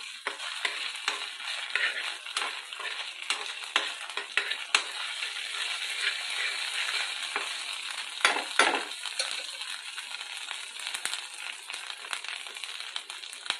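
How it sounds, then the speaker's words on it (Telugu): A paste of small onions fries in a pan for an okra (bhindi) curry: steady soft sizzling with intermittent scraping and stirring clicks from a utensil, close and fairly quiet, no talking. "ఒక నిమిషం పాటు ఈ పేస్ట్ని ఏ విధంగా ఫ్రై అవనిద్దామండి."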